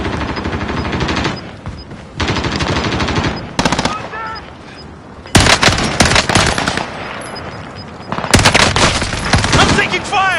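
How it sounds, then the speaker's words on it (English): Battle royale video game gunfire: loud bursts of automatic fire come in several dense stretches with gaps between them, mixed with a player's voice over game sounds. "I'm taking fire!"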